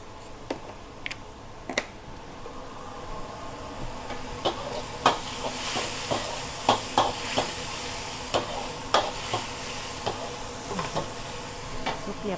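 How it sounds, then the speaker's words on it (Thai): Beef stir-fried with ginger in a pan, giving a soft continuous sizzle broken by scattered clicks and taps of a spatula against the pan at an irregular pace. "เนื้อผัดขิงสำหรับพี่น้อง"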